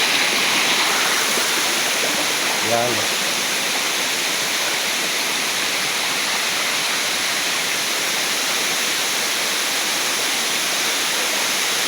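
A river near Yaganak Falls rushes in a steady, loud wash of water noise that fills the whole clip. A brief word is spoken early, partly masked by the flow.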